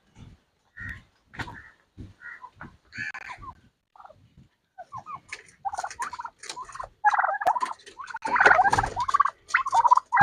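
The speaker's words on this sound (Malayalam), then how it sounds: "നമുക്ക് കോഴിയെ തുറന്നു വിടാം." Chickens released from their coop on a hot-season farm give a series of clucks and squawks, sparse at first, then crowding into louder, overlapping calls close by.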